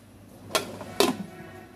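A lid goes onto a pot of beef liver boiling in salted water, giving two sharp metallic clacks about half a second apart over a quiet background.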